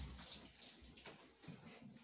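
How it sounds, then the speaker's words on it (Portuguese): Water splashing and running while a shower stall is washed in a bathroom, faint and uneven with soft sloshing bursts and no talk. "Lavando o box."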